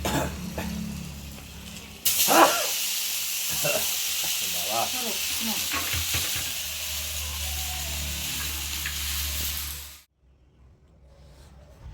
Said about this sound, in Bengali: এরকম করে মুচমুচ মুচমুচে লঙ্কা ভাজা